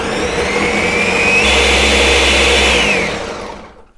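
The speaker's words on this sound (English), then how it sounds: "All right, so let's blend." A Ninja blender whirs steadily while blending cheesecake ingredients, lemon among them, its motor pitch rising midway and holding loud and close before cutting off and fading into silence.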